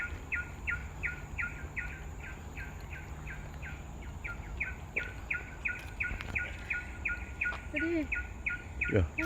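A bird in a nature park calls in a fast, steady series of short chirps that continues almost throughout, over a constant insect hum, with a few squeaky sounds and faint movement noise near the end.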